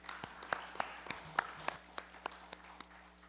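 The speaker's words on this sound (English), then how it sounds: "So may I ask that we give them a round of applause." Scattered hand claps from a small number of people at a legislative session, a few sharp separate claps spread over a few seconds, fairly faint against the room's quiet background hum.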